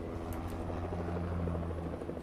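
A video game helicopter's rotor thrums in a steady, rhythmic drone, moderately loud and sustained throughout, with no voices.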